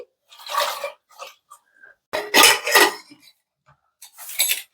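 A pot of potatoes with tomatoes and salt is set on the stove for boiling, with bursts of clattering metal cookware and splashing water separated by short pauses.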